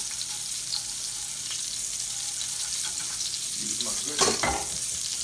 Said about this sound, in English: I'm gonna make me a little gravy here. Use a little flour here from the breading.